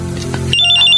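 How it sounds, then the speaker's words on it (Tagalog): A cellphone rings with an incoming call, an electronic ringtone melody starting abruptly and continuing loud and close, after a moment of low background music. "May tumatawag sa cellphone."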